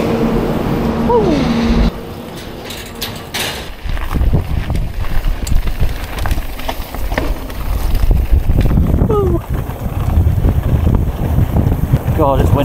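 Strong wind buffets the microphone at Whistler Bike Park, a loud, continuous roar with gusting low rumble throughout, a brief lull near the start, and faint voice fragments mixed in.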